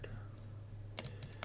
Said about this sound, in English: I should just use the keyboard.